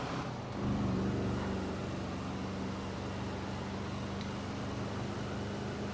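A car driven around in GTA V Online, its engine giving a steady, continuous drone with a low hum and broadband road noise, moderately loud with no talk.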